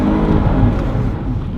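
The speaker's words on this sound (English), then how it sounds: "First drift of the day" A 2014 Jeep Wrangler drifts sideways on a street, its engine revving hard in a loud, close, continuous roar with no other sounds over it.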